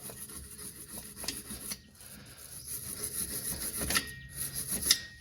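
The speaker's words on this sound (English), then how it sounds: "If they are caked up with rust, use that little wire brush, give it a decent scrub." A small wire brush scrubs rusty shock absorber bolts on a Nissan Patrol: quiet, irregular scratchy rubbing strokes at close range, with a few sharper scrapes near the end.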